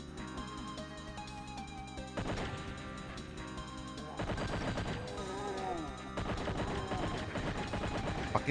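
Chaingunner enemies in a Doom mod fire bursts of shots amid crashing impacts and game music, loud and busy throughout, growing denser in the second half.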